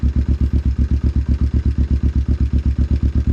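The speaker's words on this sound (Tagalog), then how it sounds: "So arit ating painitin na muna at kita nyo naman kahit cold start talagang easy starting ang motor na rin." A big bike motorcycle engine idling while warming up after a cold start, thumping in a loud, steady, evenly paced pulse close to the microphone, with no voices.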